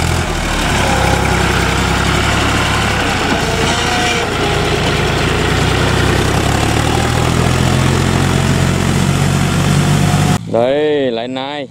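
A John Deere four-wheel-drive tractor tilling two plots of land, its engine running with a constant low, heavy drone throughout, cut off near the end by a short tonal, voice-like sound.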